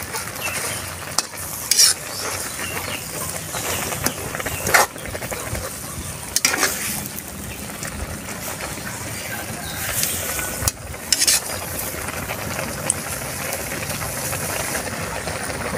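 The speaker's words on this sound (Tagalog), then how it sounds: "Haluin lang natin yan para ma-mix yung ating mga gulay." Okra and mixed vegetables stirred in a frying pan for a home-style Filipino dish, with a steady sizzle under repeated scraping and clinking of a utensil against the pan, several sharper knocks standing out.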